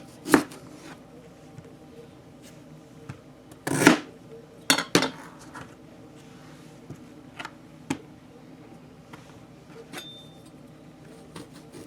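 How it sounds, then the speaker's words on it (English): A knife chops through parsnip ends on a cutting board, with several sharp, distinct cuts heard close up. The cuts are irregular and come with faint clinks of kitchen utensils in a quiet kitchen. "Now, cut the ends off."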